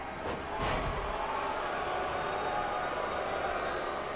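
A wrestling arena crowd in the WWE 2K18 video game sends up a continuous booing roar that swells early and then holds steady throughout.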